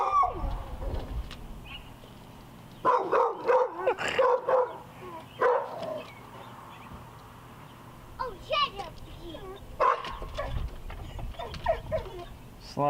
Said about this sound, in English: here comes the little helper and the guard dogs